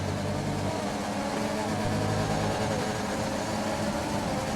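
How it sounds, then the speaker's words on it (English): A glitching car engine in a racing video game, set at Brazil, gives a continuous droning, buzzy hum with a steady pitch and no clear revving. "now I've got the engine noise glitch, that's painful to listen to"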